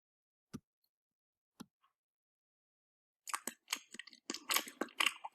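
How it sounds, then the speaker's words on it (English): A chewing gum sound effect: two isolated soft clicks, then a quiet pause, then a run of wet, smacking, crunchy chews heard up close, with no voices. "Let's see what chewing gum sounds like."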